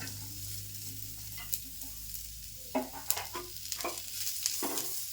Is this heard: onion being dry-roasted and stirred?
yes